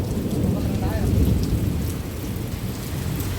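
A thunderstorm brings a dense roar of heavy rain on surfaces, with low thunder rolling beneath it, steady and loud throughout.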